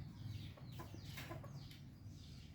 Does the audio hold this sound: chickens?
yes